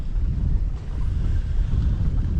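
Strong wind buffets a microphone aboard a fishing boat on a choppy lake in cold December weather, a loud, continuous low rumble with faint water slosh underneath and no talking.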